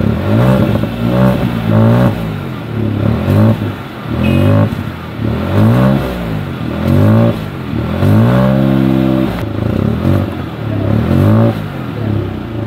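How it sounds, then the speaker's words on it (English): A Hyundai i20 N Line's exhaust note as the engine is revved repeatedly in loud rising and falling bursts, close up and mostly alone, with a few brief pauses between revs. "So that's how the exhaust of the i20 N-line sounds."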